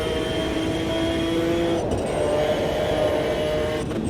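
A McLaren F1 GTR race car engine in Automobilista 2, heard from the external view, droning at high revs, steady and loud, with brief shifts in pitch as it changes gear.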